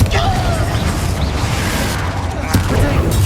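A Confringo fire spell bursts in Hogwarts Legacy, a dense, booming blast with crackling, gunfire-like bursts that stays loud for several seconds amid a busy combat din, with a voice speaking over it.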